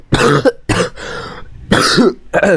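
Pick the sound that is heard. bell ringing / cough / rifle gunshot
cough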